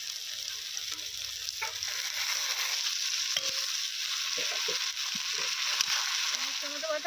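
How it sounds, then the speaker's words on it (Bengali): Tomato paste, added after cumin and onion paste for rohu fish curry, fries in a kadai with a constant soft sizzle, broken by a few light scraping stirs of the spoon. "টমেটো বাটা হালকা ভাজা হয়ে গেছে"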